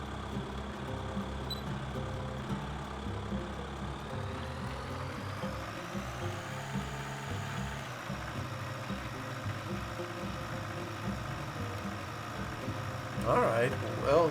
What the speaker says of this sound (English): So we must have a tractor that's adequately powered.